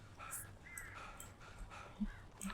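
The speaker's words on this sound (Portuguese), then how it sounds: "os pássaros do filme Pássaros" Crows cawing in the video game Alan Wake, several faint harsh caws repeated across the moment under a low background, with no clear voice.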